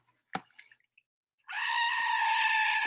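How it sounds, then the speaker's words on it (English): A billy goat lets out one loud, sustained bleat up close, preceded by a few faint clicks and knocks. "It's a billy goat."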